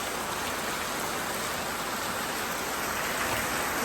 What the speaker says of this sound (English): Yes, rain is heavily coming now.